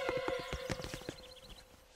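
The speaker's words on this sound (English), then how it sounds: "Get her on that horse." Cartoon horse hooves clip-clopping in a quick rhythmic series with a brief whinny, close and clear over a steady musical tone, with no talking.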